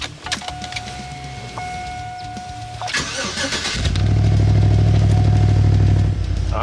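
A van engine cranks over briefly and catches after an oil change, then settles into a loud, steady idle with a deep rumble, close by and with no voices.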